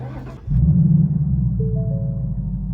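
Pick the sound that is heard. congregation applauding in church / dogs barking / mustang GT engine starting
mustang GT engine starting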